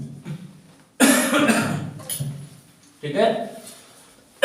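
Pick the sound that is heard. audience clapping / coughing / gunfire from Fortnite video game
coughing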